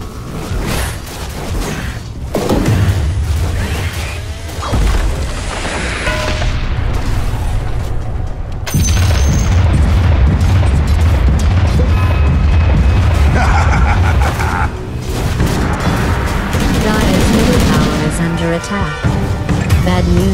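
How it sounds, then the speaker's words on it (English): Tower under attack in a Dota 2 match, with repeated booming impacts, whooshes and mechanical clashes in dense, loud bursts, alongside game voice announcements. "Dire's top tower is under attack"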